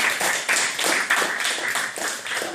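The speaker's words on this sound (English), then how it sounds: "please and applause for our Jeopardy host, Alex." Applause for the host of a classroom-style American history Jeopardy game, a small group clapping in uneven bursts, close and moderately loud with no talk over it.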